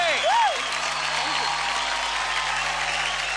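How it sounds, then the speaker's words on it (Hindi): Applause from a studio audience for child dancers on a televised dance competition, a steady broadband wash of clapping that holds evenly throughout, with a brief whooping voice at the start. "तो जोरदार तालियां हो जाएं"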